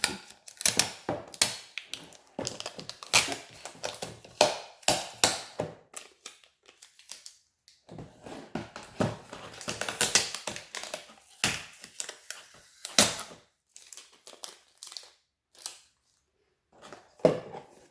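Small garden greenhouse for growing little crops being opened, with irregular plastic crinkling, rustling, snapping and clicking handling noises coming in scattered bursts, close and fairly quiet, with no talking.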